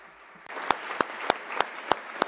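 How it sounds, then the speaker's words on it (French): Applause from an audience at a celebration of the WHO tobacco control convention, a steady wash of hands with a few louder, evenly spaced sharp claps standing out nearby, beginning abruptly after a brief quiet moment. "tout cela mérite vraiment des applaudissements chaleureux."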